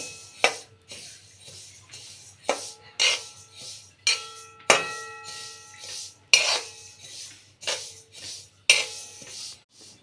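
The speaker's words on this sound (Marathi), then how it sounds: "आपल्याला आता तीळ भाजून घ्यायचे।" Sesame seeds roasting in a hot kadhai while being stirred, giving repeated metallic clinks and scrapes of a spoon against the pan at a steady, fairly close rhythm with no talking.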